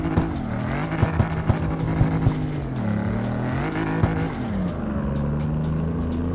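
A 2JZ-swapped car in the CarX Street racing game revs hard, its engine rising and falling in pitch through gear changes with a few sharp pops, loud and close, with no talking.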